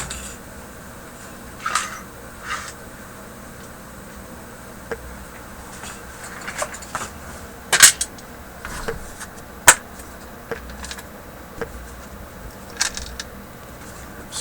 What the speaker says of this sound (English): Screws falling out of it here.